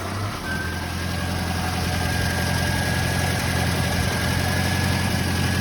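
Ford Escort engine catching and settling into a steady idle, a loud close continuous hum and rumble with an even, smooth note and no rattles standing out.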